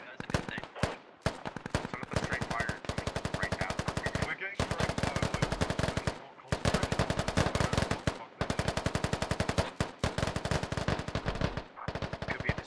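Dense, sustained automatic gunfire from a squad laying down suppressing fire in the military shooter Squad, rapid bursts running almost continuously with brief pauses, loud and close, with occasional voices faintly underneath.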